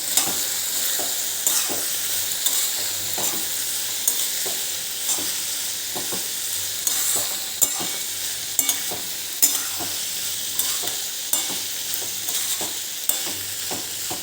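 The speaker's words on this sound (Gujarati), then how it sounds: "હવે આપણે એને એક વખત હલાવી લઈશું" Bitter gourd and potato frying in a pan, a continuous loud sizzle with small clicks and scrapes of a spatula stirring now and then, close by and without any talking.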